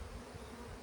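Honey bees hum in a low, continuous drone at an open hive that is preparing to swarm, faint and steady for under a second.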